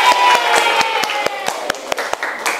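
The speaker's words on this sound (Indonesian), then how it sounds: "tepuk tangan" A small classroom group claps for a second-place team in a fiqh lesson on preparing the dead, in sharp, distinct hand claps that thin from a brief burst into a few spaced single claps, close and clear.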